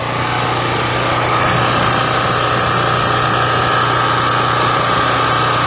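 A Harbor Freight Predator 4000 watt generator runs steadily nearby, a loud, even engine drone with a buzzing hum that never changes.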